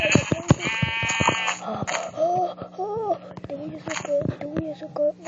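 Goat bleats in a Spanish-language video game, a harmonic bleat near the start followed by wavering, warbly cries amid clicks and game effects, with a voice talking over parts of it.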